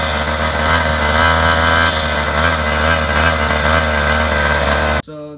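A small pocket bike engine, just started by pulling, runs loud and close with a steady buzzing drone for about five seconds before suddenly cutting out, with no talk over it.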